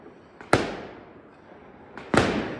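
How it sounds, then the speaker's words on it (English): Two sharp firework bangs outdoors during Chinese New Year in China, about a second and a half apart, each with a crackling, echoing tail that fades slowly into the night. "These are not fireworks put on by the city or the state or the government."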